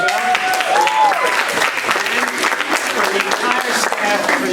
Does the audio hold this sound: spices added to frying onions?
no